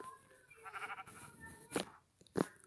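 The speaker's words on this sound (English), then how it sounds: "Hey, another sheep." A sheep in Minecraft PE bleats twice in short, close bursts near the end, after a stretch of soft tonal game sounds, with no voices over the bleats.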